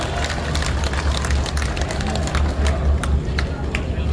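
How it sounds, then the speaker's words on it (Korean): Crowd applause at an outdoor Korean political rally, a dense steady clapping from many people with cheering babble, loud and continuous throughout. "우리 이래진님께 다시 한번 큰 박수 보내주시기 바랍니다"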